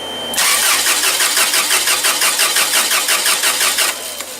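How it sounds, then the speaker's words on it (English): A Toyota 7FG U25 forklift engine cranks steadily for about three and a half seconds with a rapid, even rhythm from the starter, but it never catches and falls silent, loud and close. "So let's try cranking it."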